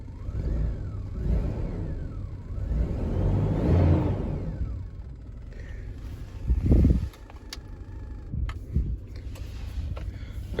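The 1997 Toyota 4Runner SR5 with a bad exhaust leak runs loud, its engine revving up and down in a few swells before settling into a rumbling idle with a couple of sharp blips.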